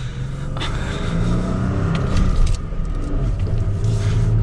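A 2021 Toyota Tacoma TRD Off-Road with a manual transmission accelerates up to road speed, its engine drone and low rumble loud and continuous from inside the cab.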